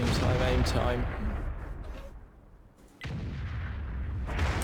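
A self-propelled artillery gun fires in World of Tanks, giving a loud booming report that decays into a rumbling tail, followed by a sudden surge of engine and battle noise.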